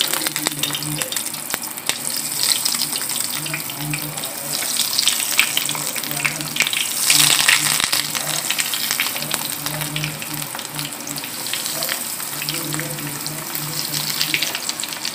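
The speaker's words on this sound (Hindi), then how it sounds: "नेगेट्स हमारे रेडी हो गए हैं अब इनको हम फ्राई करेंगे" Chicken nuggets frying in oil over a low flame, a steady close crackling sizzle that holds at an even level throughout, with no talking.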